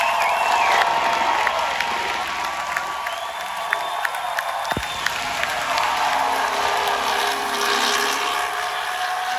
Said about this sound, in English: take a listen to how the crowd reacted when Norris won the Grand Prix